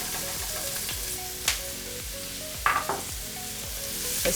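Onion and curry leaves frying in oil for a Kerala-style lobster roast gravy, with a steady close sizzle, a couple of sharper crackling bursts, and occasional stirring scrapes.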